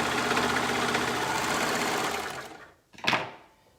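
A sewing machine runs steadily, stitching a cuff onto a sleeve, with a dense mechanical whir for over two seconds before it slows and stops, followed by one brief louder burst.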